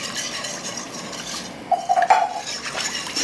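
A metal whisk scraping and clinking against a pot while canned milk is beaten into a roux, a few quick bright clinks rising over a low background hiss.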